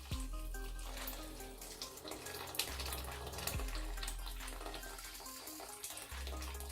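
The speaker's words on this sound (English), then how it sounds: "And now I'm just going to go in with about 2 litres of water." Roughly two litres of boiling water pouring steadily into a cooking pot, a continuous splashing rush with a low resonant rumble that shifts in pitch as the pot fills.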